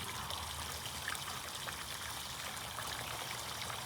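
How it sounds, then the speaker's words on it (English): Steady trickling and splashing of water falling from a small waterfall into a backyard pond, continuous and fairly close, with no voices. "You can already listen to the birds and the water falling"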